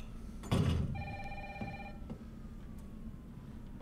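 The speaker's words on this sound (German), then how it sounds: "Telefon. Wie kann das sein?" A telephone bell rings in a run of rapid trills for about a second, clear and fairly close, in the Resident Evil 3 Remake video game, then falls silent against a low ambient hum.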